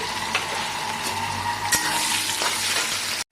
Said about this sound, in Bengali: এদিকে পেঁয়াজটা ফ্রাই হচ্ছে